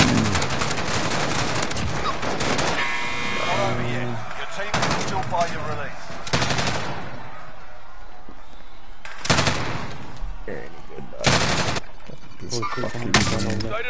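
Warzone video game gunfire: loud, close bursts and single cracks of shots, including a sniper shot, come in clusters across the span, with game sounds and voices between the volleys.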